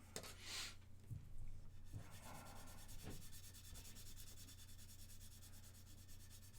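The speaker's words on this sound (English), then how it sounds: "I just got to come over with a finer grit and I smooth that out" Finer-grit sandpaper rubbed over a part of a 1/48 mega-size Gundam RX-78 plastic model, quiet close scratchy strokes, a few distinct rubs early then a continuous soft rasp.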